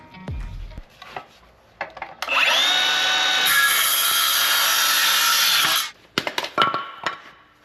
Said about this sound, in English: I'm gonna go cut a 2x4 to lay across there